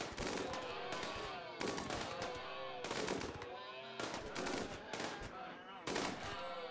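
RimWorld video game gunfire, with dense bursts of rapid shots repeating in several waves across the clip, loud and continuous, occasional speech faintly underneath.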